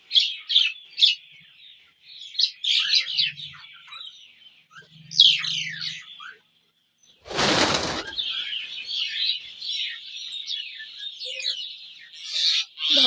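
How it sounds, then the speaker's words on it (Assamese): Small birds chirping busily close by while pecking at bhujia, rapid overlapping tweets throughout, a sudden burst of flapping wings midway, and a couple of soft low coos. "দেখিছেনে চৰাইক মই খাবলৈ দিছোঁ ভুজিয়া"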